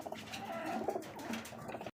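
Black check pigeons cooing close by, a soft continuous run of low throaty coos with no talk.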